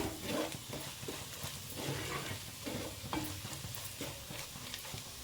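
Dry masala for egg curry being stirred in a pan over low to medium flame, a steady scraping and stirring with a faint sizzle underneath, close and continuous with no talk.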